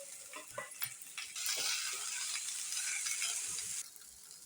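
Fried turkey berries are sautéed with onion, coriander and curry leaves in sesame oil, starting with a few spoon scrapes and stirs before a loud steady sizzle that cuts off near the end.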